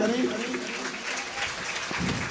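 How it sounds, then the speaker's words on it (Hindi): An audience at a Shiv Mahapuran katha claps together to welcome the guru, a steady dense ovation with voices mixed underneath. "आइए गुरुदेव विजय शंकर जी का जोरदार तालियों से स्वागत करें"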